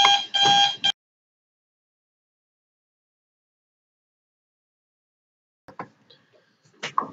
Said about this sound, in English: Well, that was my alarm.